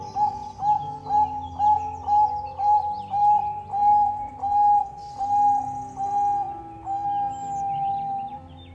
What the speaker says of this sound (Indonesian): perkutut Bangkok lebih sering dibudidayakan untuk kontes suara